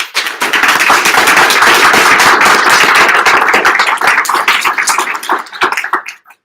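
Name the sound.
audience applause for student speakers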